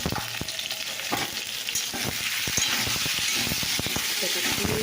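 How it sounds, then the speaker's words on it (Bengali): Steady sizzling of potatoes with turmeric frying in a pan, with scattered crackles and a quiet voice underneath. "লাল লাল করে একটু ভাজতে হবে"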